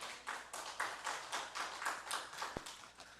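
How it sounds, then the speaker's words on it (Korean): Rhythmic unison clapping from a church congregation at a Friday night worship service, steady beats repeating about twice per second, moderately loud and filling the room, with one sharp tap near the end. "하나님께 영광의 박수 돌리겠습니다"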